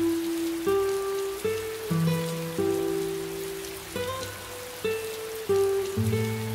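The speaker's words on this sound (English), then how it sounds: "Oh, Mikey, it's starting to rain." Steady hissing rain in the video game Minecraft, running as a soft broadband wash beneath a slow, stepping melodic tune.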